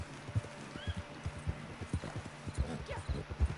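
Horse hooves clip-clop at a steady walking rhythm in the video game Red Dead Redemption 2 with a tired horse, close and regular, with a faint whinny, under a quiet background.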